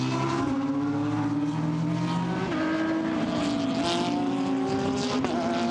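Lamborghini and Ferrari GT race cars racing at a Blancpain GT Sports Club race in Hungary, their engines a loud, steady high-revving drone with pitch dips and shifts as the cars power along together.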